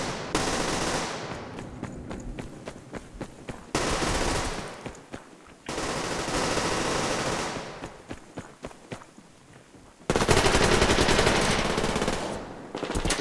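Automatic gunfire from the shooter game Survarium, with sustained loud bursts separated by short pauses, single shots and clicks, and a final dense burst near the end.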